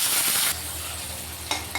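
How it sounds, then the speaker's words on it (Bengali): Onions hiss and sizzle in hot oil, a loud burst at first settling into a steadier fry, with a couple of quick scrapes. "পেঁয়াজগুলো দিয়ে আমি একটু ভাজি করবো"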